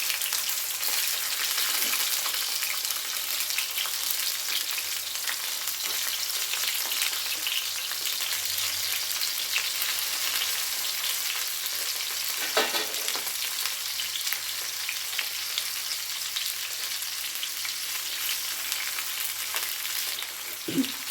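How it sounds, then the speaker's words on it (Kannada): Potatoes and tomatoes fry in oil for an onion-tomato gojju, giving a steady close sizzle throughout with a few soft stirring knocks and no voices. "ಆಲೂಗಡ್ಡೆ, ಟೊಮೊಟೊ ಮತ್ತು ಎಲ್ಲನೂ ಹಾಕಿ ಎಣ್ಣೆಲಿ ಚೆನ್ನಾಗಿ ಫ್ರೈ ಮಾಡ್ಕೊಳ್ಳೋಣ"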